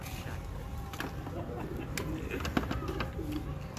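Soft, low pigeon cooing rumbles steadily through a busy background of ambient noise, with a few sharper clicks and knocks.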